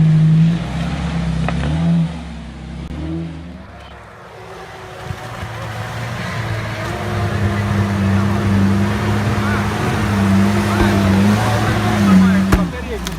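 A UAZ off-road vehicle fitted with military axles and T-40 tractor reduction gears drives through a snowy winter forest, its engine droning and revving steadily up close, with voices speaking over it.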